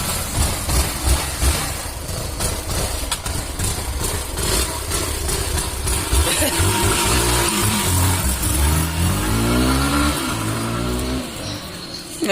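A Yamaha SZR motorcycle runs after a clutch plate repair. The engine idles steadily and close by, then revs up with a rising whine near the end.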